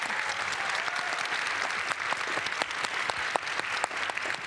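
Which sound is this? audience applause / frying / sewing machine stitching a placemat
audience applause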